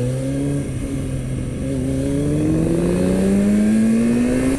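A 2006 Kawasaki ZX6R sport bike engine revving loud and close while riding, its pitch climbing steadily as the revs build, with wind rush underneath.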